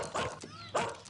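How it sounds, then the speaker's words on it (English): A little dog gives two short, high yaps about half a second apart, close and clear, with a faint whine between them. "I got the little dog making little yapping noises"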